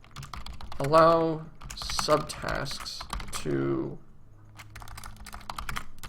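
Rapid clicking keystrokes on a computer keyboard come in bursts, mixed with someone speaking close by while he types.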